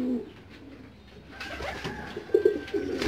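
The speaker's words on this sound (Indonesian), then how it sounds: "Ini semua piyik semua di sini." Young pigeon chicks coo softly in an open pen. A few short, low, throaty coos sound close by over faint background rustling, growing a little louder toward the end.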